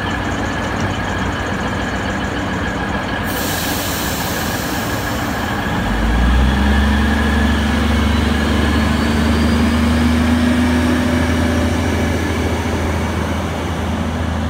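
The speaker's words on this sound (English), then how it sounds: "Tallara service now departing." A Tallara service train pulls away from Hexham station with a steady loud rumble, its engine note rising into a heavier drone midway as it gathers speed.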